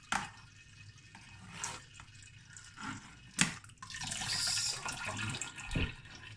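Thick kiwi wine full of fine-grained sediment strains through a clogging net, giving intermittent liquid splashes, trickles and pours with occasional sharp knocks, close by and moderately loud with no talking.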